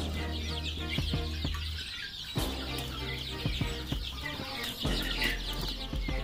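Young chicks peeping in their coop on a farm, with busy clucking and chirping close by and a low steady hum underneath.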